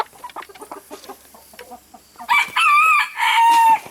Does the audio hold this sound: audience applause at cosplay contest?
no